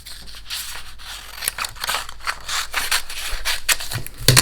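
Scissors cutting trouser fabric, a run of close crisp snips and rustles following one another at an irregular pace, with no talk.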